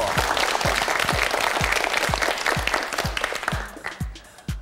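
Studio audience clapping on a Korean TV word quiz show, steady dense applause with a regular low thump beating under it, tapering off near the end.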